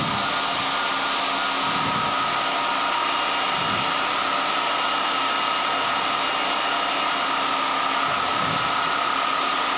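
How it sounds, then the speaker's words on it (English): Motor of the SAQ Grimeton historical VLF transmitter running with the key down: a steady, loud electrical hum and whine with a constant tone, plus a few brief low surges, and no voices. "the next step now is to adjust the torque over the motor when we have the key down"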